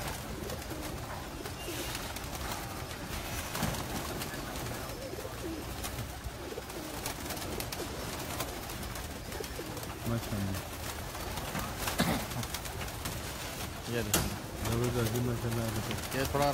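Pigeons coo in soft, repeated low calls amid a busy background, while someone talks over them throughout.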